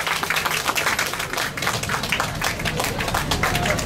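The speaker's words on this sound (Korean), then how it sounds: "의원님께 큰 박수 부탁드리겠습니다." Sustained applause from an audience at a first-anniversary cultural festival in Sangnoksu Plaza, dense steady clapping filling the space for several seconds at even loudness, greeting a National Assembly member.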